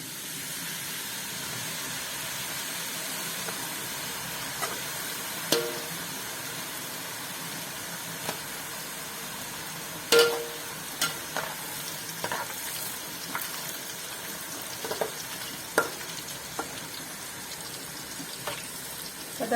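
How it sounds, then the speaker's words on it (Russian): Small pieces of chak-chak dough fry in hot oil with a steady close sizzle and bubbling, broken by occasional stirring clinks and pops over about twenty seconds. "Сейчас будем жарить чак-чак."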